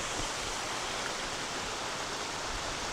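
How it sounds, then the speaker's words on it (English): Waterfall in a state forest, a steady broadband rushing roar of falling water, continuous and even throughout, heard alone with no voices. "one of the best waterfalls I've seen for ages"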